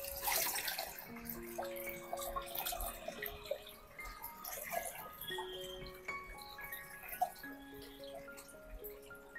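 Water pours and splashes into a tub being set up for planting lotus, a soft continuous trickle with small drips, faint and close.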